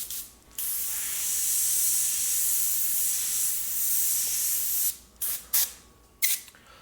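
An airbrush spraying Createx paint gives a steady, loud airy hiss lasting several seconds, then breaks into short bursts separated by brief pauses near the end.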